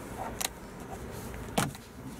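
Electronic handbrake of a Vauxhall Meriva engaging inside the cabin: two brief, close mechanical clicks with a short whirr, the second louder, set against a low, steady interior hum with no one talking.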